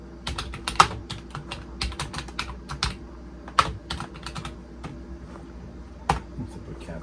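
Rapid, uneven keystrokes clatter on a Vendex Headstart Turbo 888 XT keyboard, with a few louder key strikes standing out over a steady low electrical hum, close up and with no talk.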